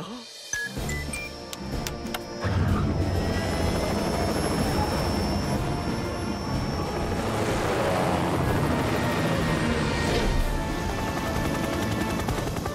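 A helicopter in a Fireman Sam cartoon, its rotor thudding loudly and continuously after a brief startup, with a whining engine tone overhead and no speech.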